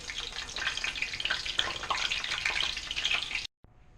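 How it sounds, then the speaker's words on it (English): Loud, close crackling and sizzling of mackerel and pompano frying in hot oil, continuous for several seconds before cutting off abruptly. "You want to start frying them all at about the same time."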